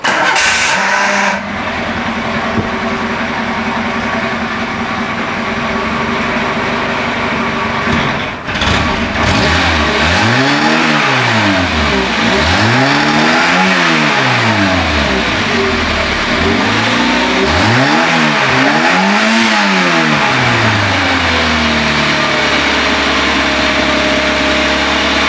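A cold Renault Super 5 engine cranks and catches, then settles into a steady idle broken by two bursts of throttle that rise and fall sharply. Loud and close, with no talking.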